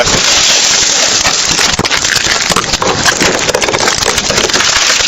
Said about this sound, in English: break the window and take her out